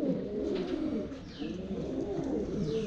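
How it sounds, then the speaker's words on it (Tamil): A flock of pigeons kept in a loft coos in low, continuous, overlapping warbles, close and steady throughout with no talking. "இது வந்து கிரேபாஸ் இந்த புறா பேரு."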